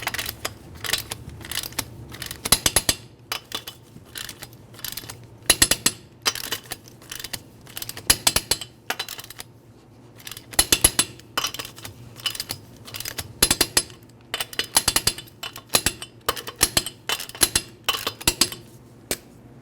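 Torquing the wheel lug nuts on a Nissan Altima, heard as a long series of sharp metallic clicks from a torque wrench, arriving in quick irregular bursts with short pauses between nuts.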